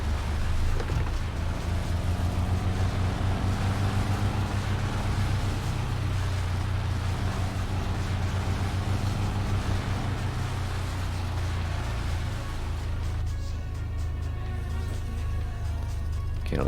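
Drag race car engines in My Summer Car drone continuously and loudly, a steady low rumble with layered engine harmonics holding throughout, roaring on without a break.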